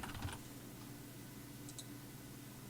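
A computer keyboard clicks in a brief burst of quick keystrokes, then a couple of faint taps over a quiet hum.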